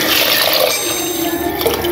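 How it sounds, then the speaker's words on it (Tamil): Water is poured into a pressure cooker in a home kitchen while making lentil rice, a loud, steady splashing and rushing stream throughout. "இப்போ வந்து நான் இதில் தண்ணி ஊற்ற"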